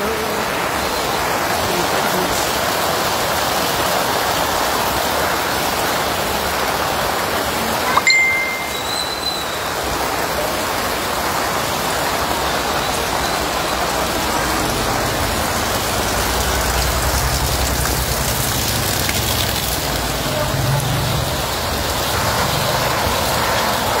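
A dense, steady roar of heavy typhoon rain pours down without letup, with a brief clunk partway through.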